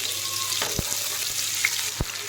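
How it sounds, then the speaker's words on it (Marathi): Onion fries in oil in a pan with a continuous close sizzle, punctuated by a few sharp taps and scrapes of a utensil. "छान कांदा एकदम आपण सोनेरी कलरवर एकदम मस्त परतून घेणार आहेत"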